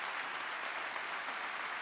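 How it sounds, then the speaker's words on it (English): A large convocation audience at CSULB in 2015 claps steadily, a thick continuous wash of many hands with no pauses or voices, heard from a distance across the hall. "Please give them a round of applause."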